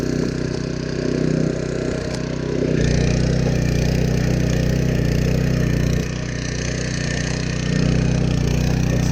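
A Honda FC600 rear tiller's small engine runs at a low idle close by, a loud steady mid-pitched chug that swells slightly in stretches, with no talk over it.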